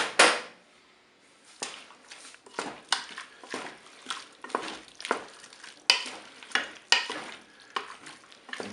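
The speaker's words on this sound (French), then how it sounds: "Je vais rajouter mon mélange crème fraîche moutarde. Je vais mélanger tout ça." A crème fraîche and mustard mixture is stirred into a pork, leek and carrot sauté in a Cookeo, giving soft repeated scraping and sloshing strokes over a faint sizzle, close and without talk.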